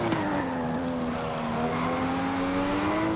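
Nissan Skyline R34 GT-R racing in the Forza Horizon 5 video game, its engine holding a steady high droning note through a long corner with a faint tire hiss, close and continuous.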